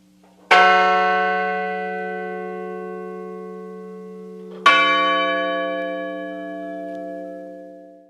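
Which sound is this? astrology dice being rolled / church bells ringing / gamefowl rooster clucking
church bells ringing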